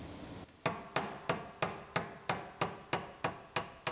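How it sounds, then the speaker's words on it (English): A hammer strikes the damaged floor pan of a rebuilt GMC Terrain in eleven evenly spaced, sharp metallic blows, about three per second, each ringing briefly before the next, with no talk over them. "So now we can hammer out our floor."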